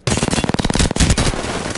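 Rapid automatic gunfire from an Apex Legends match, a loud, dense rattle of closely spaced shots running almost without pause for under two seconds, with a brief dip midway.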